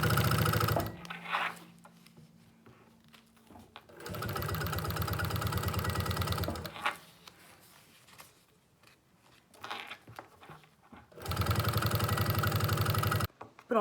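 A sewing machine stitches a fabric travel pouch with a window in bursts of steady, close whirring, separated by quieter pauses with small handling noises.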